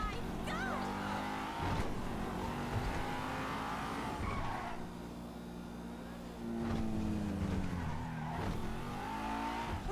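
A fast car in Grand Theft Auto 5 revving hard with repeated tire squeals and skids as it slides through turns, engine pitch rising and falling, loud and close, with a voice talking over it.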